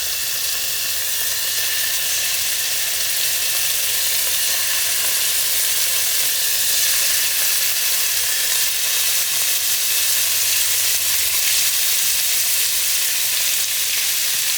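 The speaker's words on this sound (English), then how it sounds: "We know it's ready because it's giving it a sizzle." Beef pieces sizzle steadily in hot melted fat in a stew pot, a continuous close, bright frying hiss with no talk over it.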